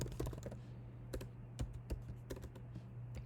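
Rapid clicking of keys on a computer keyboard, typed in uneven bursts with short pauses, close and fairly quiet over a low steady hum, with no one talking.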